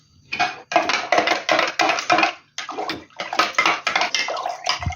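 Warm salted water is poured into a jar to fill it up as brine for fermenting cabbage leaves, making a close, steady splashing stream that comes in several bursts with brief pauses and no talking.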